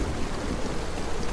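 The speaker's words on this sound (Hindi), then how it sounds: "मुझे इस तेज बारिश और तूफान से खुद को बचाना होगा" Heavy rain pours in a steady, dense hiss for a horror audio story, a continuous wash of downpour with no voices, and no distinct thunderclap stands out.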